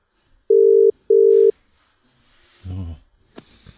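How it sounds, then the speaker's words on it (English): Two long, loud beeps of a phone ringback tone sound during a call, followed by a short rustle and a bit of voice. "It's ringing."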